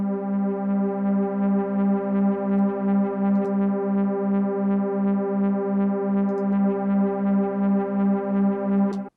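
A sustained synth pad chord run through a Vintage Echo effect, steady and loud with a gently pulsing, repeating shimmer throughout, no talking.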